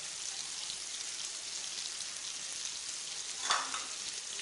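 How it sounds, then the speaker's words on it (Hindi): Beef liver fries on a flat tawa with tomatoes and green chillies, giving a soft, steady sizzle with a brief louder crackle near the end. "अभी इनको अच्छी तरीके से फ्राई करेंगे।"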